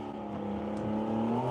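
A Porsche Cayman driving on a race track, its engine a steady droning whir that rises gradually in pitch as it accelerates, heard continuously with no talk.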